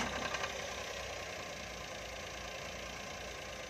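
A Suzuki DA64 engine runs at a steady idle right after starting, following an oxygen sensor replacement, a constant close mechanical hum with a faint ticking texture.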